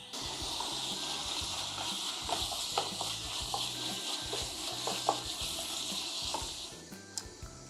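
Minced pork, 250 grams, stir-frying in a pan over high heat for spicy basil pork, a steady broadband sizzle running throughout with intermittent clinks and scrapes of a spatula stirring the meat.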